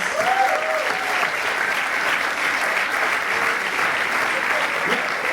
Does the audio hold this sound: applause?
yes